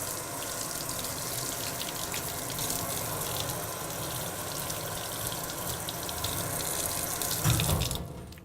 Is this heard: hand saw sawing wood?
no